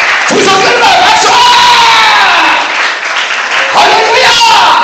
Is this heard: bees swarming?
no